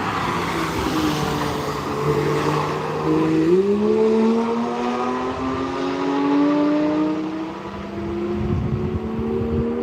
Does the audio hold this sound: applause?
no